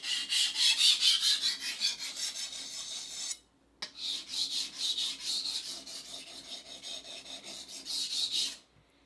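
A kitchen knife grinds across a coarse-grit whetstone in steady, rhythmic back-and-forth rasping strokes. A brief pause breaks the run before the close, dry scraping starts up again.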